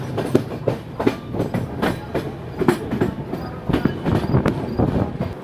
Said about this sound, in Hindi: हमारी ट्रेन पहुंच चुकी है ब्यास जंक्शन